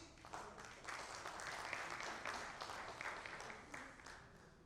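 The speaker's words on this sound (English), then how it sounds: "A huge round of applause as we welcome him on the stage" An audience at a keynote session of a cybersecurity conference in Kolkata applauds steadily, with dense, sustained clapping at moderate distance and no voices on top.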